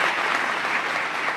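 A church congregation at a Sunday worship service claps together, producing a brief, even burst of dense applause that fills the room from start to finish.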